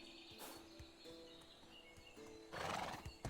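Horse in the medieval survival game Medieval Dynasty, heard close with clip-clopping hooves and a short whinny near the end, faint birdsong in the background.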